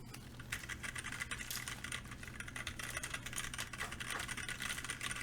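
Rapid, continuous typing on a brass-cased HHKB mechanical keyboard fitted with brown switches, crisp clustered keystrokes close up over a faint steady background hum.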